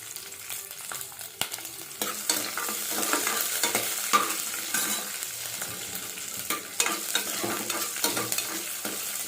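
Cumin, ginger, garlic, green chili and spinach fry in a pan for palak paneer rice, giving a steady close sizzle with frequent scraping and clinking stirs throughout and no voices.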